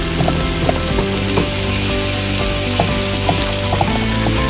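Onions fry in a pan with a loud, dense, continuous sizzle, and light scraping and clicks of stirring recur throughout. No one speaks.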